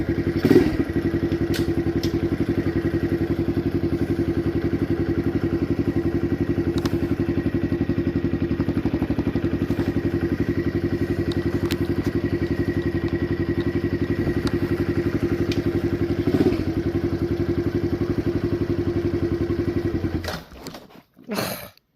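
Kawasaki KLX 110 dirt bike engine on a trail ride, a loud continuous close-up drone with occasional thumps and rattles, sputtering and cutting out near the end as the bike runs low on gas.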